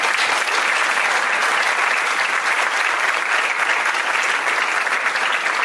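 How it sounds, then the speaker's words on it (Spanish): Steady, loud applause from an audience at a citizens' forum in a meeting hall, sustained and even throughout with no talking over it. "Un aplauso, por favor."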